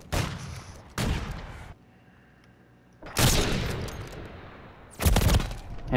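Bursts of gunfire in a shooter video game, three loud volleys spaced a couple of seconds apart, each a dense clatter of shots, separated by quieter stretches of low background rumble.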